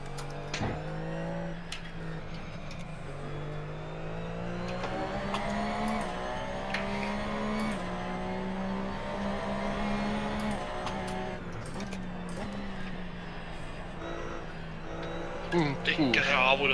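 Porsche 911 GT3 Cup race car in the racing game Assetto Corsa, its engine droning steadily at a low, shifting pitch with occasional tire noise, while someone talks over it throughout.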